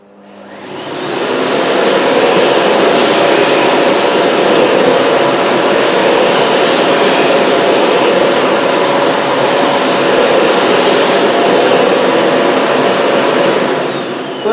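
A Miele Blizzard CX1 bagless vacuum cleaner picking up rolled oats. It roars up quickly to a loud, steady whine with a high tone and keeps running without a break until it winds down at the end.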